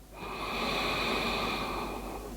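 A single long, slow exhale or inhale during an evening yoga flow, a soft airy rush of breath that swells, holds steady for about two seconds and fades, heard close and alone.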